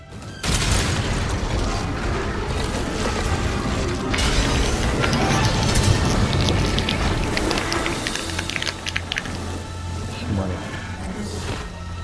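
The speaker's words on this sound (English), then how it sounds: "Dragon Razor fully loaded! Ready to fire!" A Dragon Razor weapon firing in a video game: a loud, sustained barrage of booming blasts and mechanical clatter that runs nearly the whole time, with voices shouting over it.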